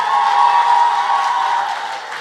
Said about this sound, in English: can I hear the wildest round of applause for all the women in the building?